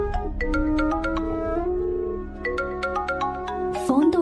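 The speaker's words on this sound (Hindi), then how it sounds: "फोन तो उठा ले।" A phone ringtone plays a repeating electronic melody of bright, pulsing tones, close and prominent, ending in a louder burst near the close with some faint voice underneath.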